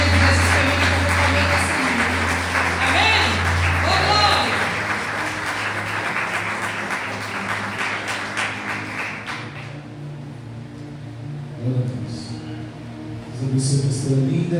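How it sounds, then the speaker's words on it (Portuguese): A church congregation at a Portuguese-language service claps loudly together over sustained music and voices; the thick clapping fills the first several seconds, then thins out as the music and singing carry on. "Aplauda Jesus."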